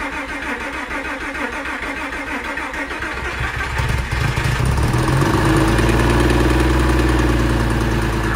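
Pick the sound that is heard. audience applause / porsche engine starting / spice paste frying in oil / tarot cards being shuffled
porsche engine starting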